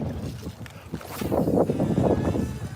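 Gusty wind buffeting the microphone while bass fishing from a boat during a hurricane, a loud rushing roar that swells and stays strong, with low rumbling blasts close in.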